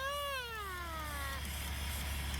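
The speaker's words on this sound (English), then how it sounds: "And is there a kitty in my way? Why, yes, there is." A cat gives one long, drawn-out meow that slides downward in pitch, heard close up over a steady low rumble of an idling vehicle on a snowy winter evening.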